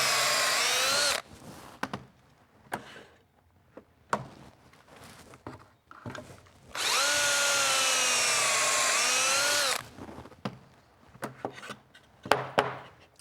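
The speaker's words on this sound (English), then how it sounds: "with the Kreg Jig, all I have to do to put this together is drill my pocket" Pocket holes are drilled into wood with a Kreg Jig, in two loud, sustained power-drill bursts of about one and three seconds. Quieter clicks and handling noises of the workpiece fall between them.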